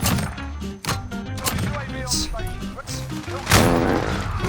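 Gold 725 shotgun blasts in Modern Warfare, a few sharp broadband bangs set among game music and effects, with a louder burst near the end.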